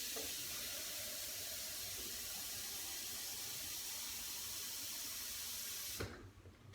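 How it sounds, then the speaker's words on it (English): Water pours steadily into a container for focaccia dough, a continuous soft hissing stream that runs for about six seconds and then cuts off abruptly. "So 175 grams of water for the focaccia."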